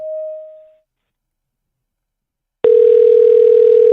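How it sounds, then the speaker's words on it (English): A telephone tone on a call to a car dealership: a short beep, then silence, then a steady loud tone that holds to the end. "I'll call his dealership back."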